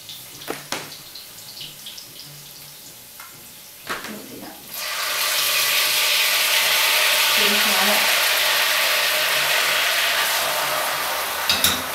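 Lamb hits a hot pan of butter and chili and breaks into a loud, steady sizzle that fills the rest of the clip, after a few quiet clicks and kitchen handling noises at the start.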